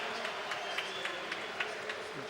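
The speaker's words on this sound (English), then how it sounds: "Everyone applauding." Stadium crowd at Soldier Field applauding during a Chicago Fire versus Manchester United football match, a broad, distant hiss of clapping with faint rhythmic peaks and a commentator's voice faintly underneath.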